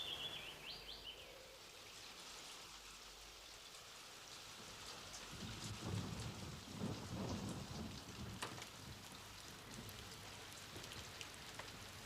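Heavy thunderstorm with steady, dense rain hissing throughout and deep rolls of thunder swelling in the middle. A faint bird chirp sounds at the start, and no one speaks.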